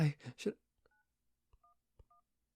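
A phone keypad tapping out 911, three short dual-tone beeps spaced apart and heard close and clear after a brief spoken phrase, with silence between the tones.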